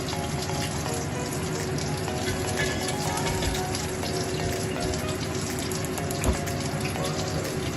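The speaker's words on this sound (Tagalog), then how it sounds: "Ngayon naman ay magpapakulo tayo ng tubig." Water pours steadily into a pot for boiling, a continuous gushing splash that holds an even level throughout with no talk.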